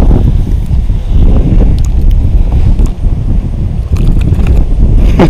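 Heavy wind buffets an outdoor microphone beside the water before a big storm, a loud continuous low roar with gusty swells and no break throughout.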